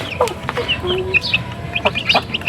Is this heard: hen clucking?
yes